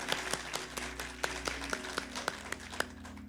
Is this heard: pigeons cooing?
no